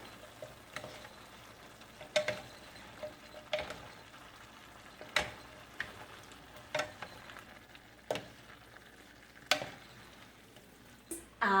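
Chopsuey fries quietly in a pan, with a soft background sizzle broken by regular sharp clicks and scrapes from stirring, no talking.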